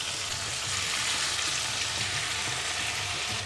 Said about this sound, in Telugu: హై టు మీడియంలో పెట్టి వేయించుకోవాలన్నమాట.